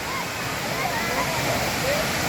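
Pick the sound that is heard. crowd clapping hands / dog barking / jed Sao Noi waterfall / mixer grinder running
jed Sao Noi waterfall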